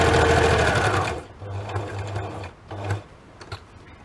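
A domestic sewing machine stitches fabric for a window pocket craft, first in a long fast whirring run, then in short bursts with pauses between, close and loud.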